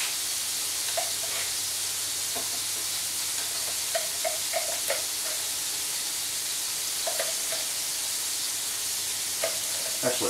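Juicy Lucy burger patties sizzle and spit in pooling fat, a steady close hiss broken by scattered crackles and pops throughout, with no talking.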